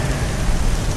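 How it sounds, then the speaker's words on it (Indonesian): Heavy rain pouring outside at night, a steady dense hiss with a low rumble, loud and unbroken with no voices. "Di luar, hujan terus mengguyur"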